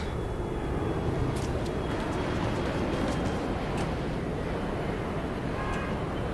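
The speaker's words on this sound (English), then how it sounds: "Oh, look, an airplane." A propeller or jet airplane passing overhead in the game Mirror's Edge, a steady broad engine roar held throughout at constant loudness, with no voices.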